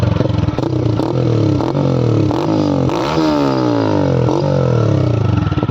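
A TVS Raider 125cc motorcycle with an Akrapovic full exhaust and dB killer fitted revs repeatedly, close by, its engine note rising and falling in sharp bursts over a steady rumbling idle.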